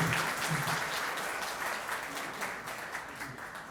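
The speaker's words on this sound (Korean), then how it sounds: "박수 한번 주세요." A workshop audience applauds in a dense, steady crackle of many hands clapping, which fills the room and fades slightly toward the end, with no voices over it.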